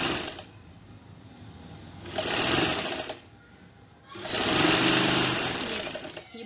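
Sewing machine stitching a sleeve onto a lace-trimmed shrug, running in two distinct bursts of rapid mechanical whirring separated by quiet pauses, close and loud.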